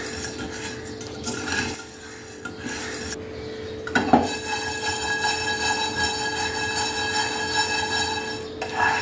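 Pongal ingredients with pounded black pepper being dry roasted in a pan, a steady scraping and stirring rasp of a spoon against metal that carries on close and clear with no talk.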